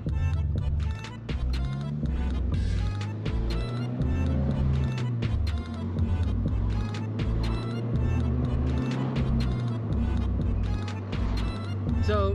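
A Toyota GR86 or Subaru BRZ fitted with a budget aftermarket exhaust drives through a busy area, its engine note rising and falling steadily up to moderate revs, heard from inside the car and running continuously throughout.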